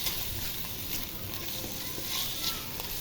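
Ground meat with a little liver browning in a frying pan, giving a soft, steady sizzle with light stirring, quiet and close, with no talking.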